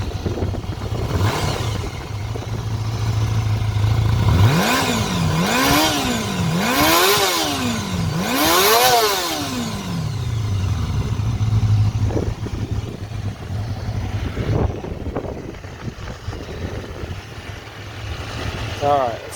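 Engine of a 1987 Honda CBR 250R Hurricane motorcycle revving up in several rising and falling sweeps from a steady idle, close and loud, then settling back to idle.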